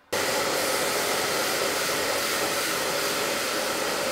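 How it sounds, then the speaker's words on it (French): A hair dryer switches on and blows steadily on its hottest setting, a loud, constant whooshing roar close by with no other sounds. "je viens mettre très chaud au niveau de mon sèche-cheveux"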